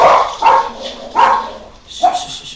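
A dog that is scared of thunder barks several times in close succession, loud and near, with short gaps between sharp woofs and no talking.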